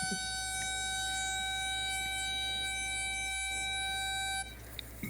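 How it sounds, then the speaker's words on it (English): A civil defense siren wails steadily at a NASCAR race at Kansas, loud and sustained, with several layered tones that cut off abruptly near the end. "the goddamn siren."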